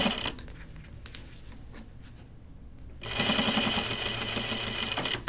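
Sewing machine stitching along a binding seam on a fabric notions case, a steady mechanical whir that starts softer and grows louder and denser partway through, running alone without talk.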